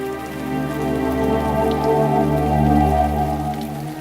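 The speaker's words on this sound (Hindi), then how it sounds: "मिसबा आए ना बेटे, अंदर आ जाओ, बारिश में मत खेल" Steady rain falls on surfaces outside a home, a dense continuous patter at even loudness throughout with no speech over it.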